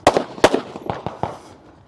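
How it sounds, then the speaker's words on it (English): Rifle shots ring out on a stage of a 2024 Utah regional women's elite shooting competition: several sharp bangs in quick succession, loud and close, the later shots slightly softer, with no talk. "it will be 12 shots with their rifle"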